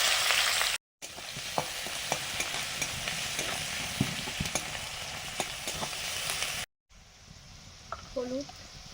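Chopped onion frying in oil with whole cumin, dried red chillies and bay leaves in a home kitchen, a steady loud sizzle with scattered spatula scrapes and stirring clicks, broken by two brief cuts, softer toward the end.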